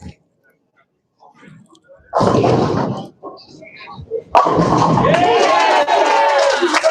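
At a high school boys' team bowling championship, a strike draws a loud burst of crowd cheering and shouting, with a brief thud or crash among the pins before a second, longer roar of cheers.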